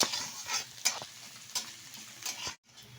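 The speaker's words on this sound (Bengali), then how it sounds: "ভালোভাবে একটু নেড়ে চেড়ে নেব বেশ কিছুক্ষণ, ভেজিটেবলটা যতক্ষণ কুক না হচ্ছে।" Chopped vegetables and green chilli stirred in a frying pan for a chicken chopper street-food dish, with a steady close sizzle and repeated scraping, clinking strokes of the spoon against the pan.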